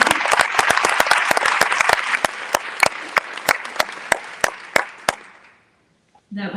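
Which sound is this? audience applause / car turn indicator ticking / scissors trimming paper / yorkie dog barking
audience applause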